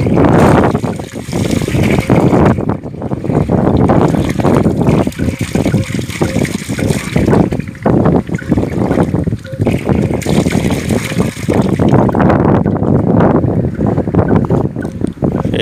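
An engine pumps water from an old borewell, a loud continuous rumbling drone with rushing water and wind buffeting the microphone, while people talk faintly underneath.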